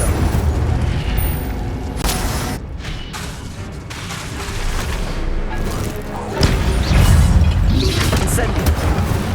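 An Incendio fire spell in Hogwarts Legacy erupts as a string of loud, close booming fiery blasts and crashes lasting several seconds, with voices mixed in.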